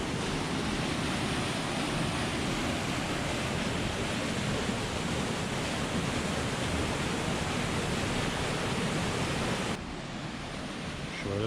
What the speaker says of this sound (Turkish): güzel bir şelale görüntüsü.